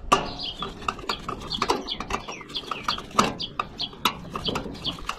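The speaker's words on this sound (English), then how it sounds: "And you hear that bird?" A bird calls repeatedly outdoors in short chirping bursts, fairly close and moderately loud, scattered irregularly with sharp clicks between them and no talk.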